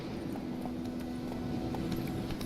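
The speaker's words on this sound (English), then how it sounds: "Luckily, Geralt can always count on his horse, Roach, to help him in his travels." Horse hooves clip-clopping steadily in The Witcher 3 as Geralt's horse Roach travels, a continuous rhythmic clatter over a constant low hum, with no voices.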